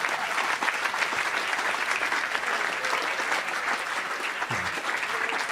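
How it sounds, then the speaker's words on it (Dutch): An audience claps steadily and enthusiastically, a dense, sustained round of applause filling the room. "Applaus."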